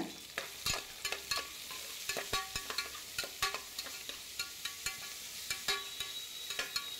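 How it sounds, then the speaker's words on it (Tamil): Mint and carrot sautéed in a pan, soft sizzling broken by frequent light clicks and scrapes of a spatula, close but quiet, with no talking. "புதினா அதையும் போட்டு நல்லா வதக்குங்க"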